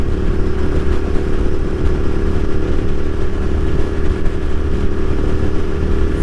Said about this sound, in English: Fifth gear, accelerating, no worries.